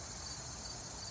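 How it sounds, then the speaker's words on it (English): Cicadas sing outdoors in a loud, continuous, shrill buzzing drone that holds steady without a break, with no voices. "Sorry about the cicadas. Now is the time for them to sing, apparently."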